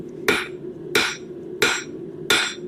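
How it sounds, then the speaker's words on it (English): Four heavy hammer blows land at an even pace on hot metal being forged into a taper for a corkscrew, each one a sharp ringing clang close by, with a low steady hum underneath. "So a heavier hammer strike will reduce"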